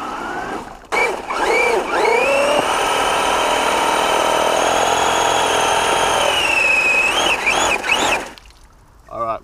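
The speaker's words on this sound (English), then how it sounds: "I can hear the slipper spinning." Traxxas Slash 4x4 RC car with its slipper clutch spinning while the wheels are jammed with mud, a loud steady whining tone that rises in pitch and holds for several seconds before dropping off.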